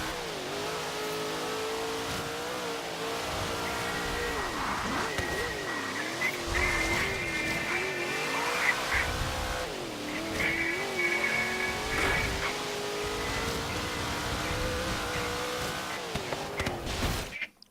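A race car in a racing video game revs and shifts through corners, its engine note rising and falling continuously, with bursts of tire squeal and skidding layered over the steady drone.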